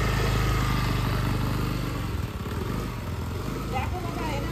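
A new scooter's engine drones steadily while being ridden, a continuous close buzzing hum with wind noise, and people talk over it throughout.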